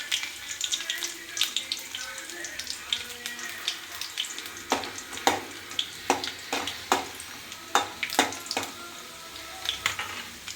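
Garlic frying in a pan for idly kurma gives a steady soft sizzle, joined in the second half by a run of sharp clicks and scrapes as a spoon stirs it, with no talking.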